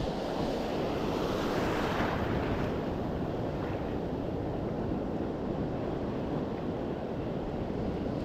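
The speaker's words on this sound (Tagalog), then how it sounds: "Uy, lakas talaga ng alon." Strong sea waves churn and wash continuously near the shore while gusty wind buffets the microphone, a loud unbroken roar with no talking.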